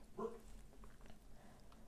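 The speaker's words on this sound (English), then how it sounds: "I fucking hate this dog." A dog indoors gives a single faint, muffled bark, then quiet low noise follows.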